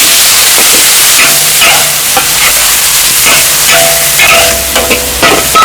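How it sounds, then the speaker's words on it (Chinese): Loud sizzling and steady hissing come from a wok where pickled sour cabbage is stir-fried with garlic, ginger and chili, and the spatula scrapes and stirs in a broken rhythm. "炒酸菜"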